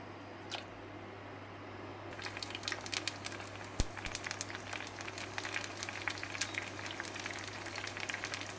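Pani puri dough balls frying in 180-degree oil, a home batch turning themselves as they puff: a steady soft sizzle with dense crackling pops that thicken after the first two seconds, close and moderately loud, with no talking.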